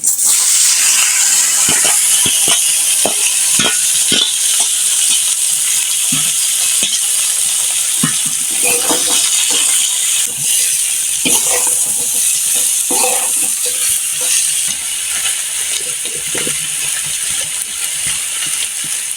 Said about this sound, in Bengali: কিন্তু ভাজা হয়ে গেছে তা এখন আমি শাকগুলো দিয়ে দিচ্ছি